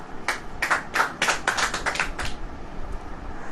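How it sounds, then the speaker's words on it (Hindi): An audience claps in a short burst of several quick rhythmic beats during a Hindi church sermon, fairly close, then fades to quiet room noise. "ताली बजाओ।"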